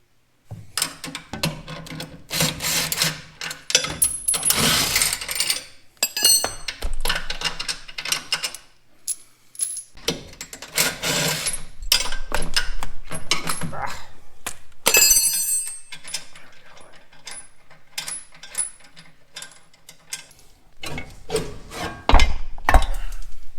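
Hammer tapping to drive a drive hub off a hydraulic wheel motor on a homebuilt snowcat. Close, irregular knocks and metallic clanks come in bursts with scraping in between and pauses of near silence, with no talk.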